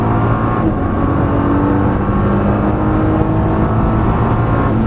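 Nissan GT-R engine pulling hard at full throttle on a Las Vegas track, a loud, steady drone held for about five seconds with no break, up close and with no voices.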